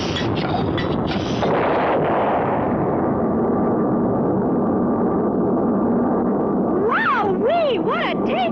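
A cartoon rocket, Professor Knockwurst's first rocket Old Betsy, blasts off in a 1959 animated scene with a loud, sustained roaring rush that slowly settles, followed near the end by warbling, sliding whistle-like tones.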